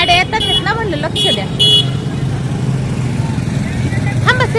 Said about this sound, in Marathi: गाड्या येतात ना म्हणलं लक्ष द्या